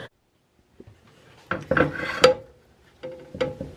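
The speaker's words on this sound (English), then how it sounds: "So I have most of the pumpkin scraped out." A utensil scrapes cooked pumpkin flesh from the skin in short, close rasping bursts separated by brief pauses, with light clinks of metal against a dish.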